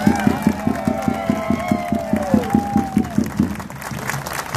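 An audience applauds at a Schützenfest shooting festival celebration in Jaraguá do Sul, Brazil, with steady rhythmic clapping in unison and a whistle over the crowd, fading after a few seconds.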